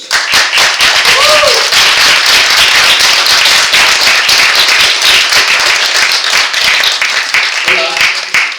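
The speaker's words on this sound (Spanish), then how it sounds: "Damos un gran aplauso a Joseph." An audience at a live talk breaks into sustained, loud applause, dense clapping that fills the whole stretch with a few voices calling out briefly.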